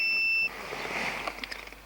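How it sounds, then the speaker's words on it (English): A multimeter on continuity test gives a steady electronic beep, probing a wiring connector while diagnosing a Chevrolet Cobalt with no electric power steering; one short tone at the start, then quiet shop noise. "Let's test for beep. We got a beep."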